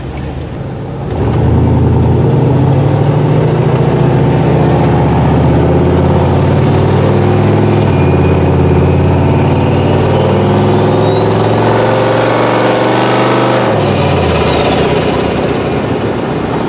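A Turbo-LS Winnebago motorhome engine idles with a deep, diesel-like rumble, then revs as a rising turbo whine climbs and falls away, loud and close, with no talking.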